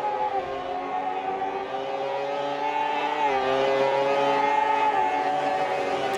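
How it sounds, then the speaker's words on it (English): Race car engines in the Automobilista 2 sim racing game, with a Brabham BT49 field heading into the first corner: a steady, loud, layered high-pitched engine drone that shifts pitch slightly as the cars pass, heard alone. "look at those cars, hear the engine noise"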